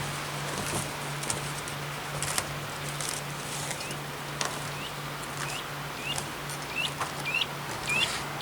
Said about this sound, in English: Sounds like the birds think spring's on the way.